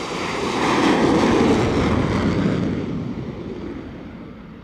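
A jet aircraft is flung off a carrier deck by the catapult, a broad roaring rush that swells loudly, then gradually recedes and fades with wind-like noise.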